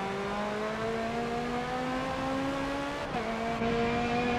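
A race car engine revs hard and steady in the video game Forza Motorsport 7, with a brief dip at a short-shifted gear change, then climbs again, loud and close.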